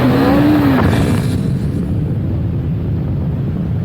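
A KTM RC390 with a 373cc single-cylinder engine is being ridden. A loud, close engine drone comes through wind rush, with a rising whine near the start before it settles into a steady roar.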